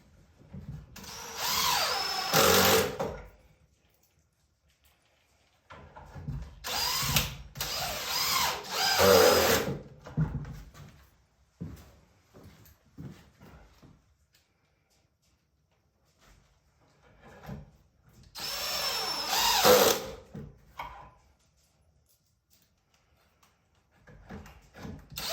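Power drill driving screws into a plywood bench frame: three separate bursts of whirring drive, each a few seconds long with the motor revving up and bogging as the screw seats, separated by quiet handling sounds.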